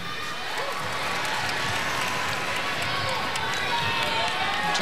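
Teammates and a crowd cheering a gymnast during her routine at the Olympic Trials, a steady, swelling arena roar with an announcer talking over it.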